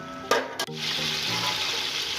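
A cup of chopped onions hits a cup of hot oil, with a couple of sharp clatters followed by a loud, steady sizzle close by.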